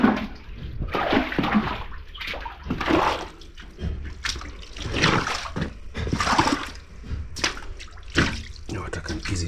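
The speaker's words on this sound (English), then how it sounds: "You see, like this room here, now the water is going." Water runs and splashes across the floor of an unfinished house room during cleaning, an uneven trickling wash in bursts, heard under someone talking.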